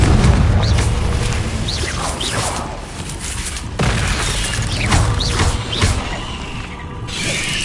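Confringo, the explosive spell, being cast during combat in Hogwarts Legacy: loud, close crashes and booms with mechanical rattles, whooshing bursts and debris clatter layered over busy game sound, a strong hit near the start and another midway.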